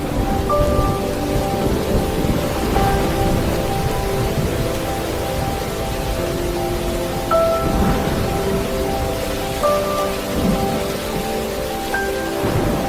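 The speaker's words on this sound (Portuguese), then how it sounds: "Um relâmpago rasgou o céu, seguido por um estrondo de trovão que ecoou por savana." Thunderstorm over an African savanna: steady heavy rain hisses continuously while deep thunder rumbles roll underneath, with a few louder swells of thunder throughout.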